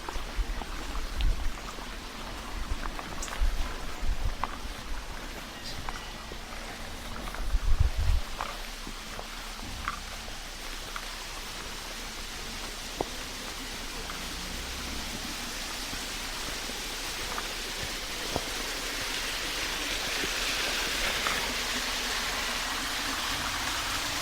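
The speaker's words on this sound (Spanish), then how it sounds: "Ahí escuchamos el río." A river runs past a small waterfall as its flow rises, giving a continuous wash of rushing water with a few soft nearby thumps, such as footsteps, and no speech.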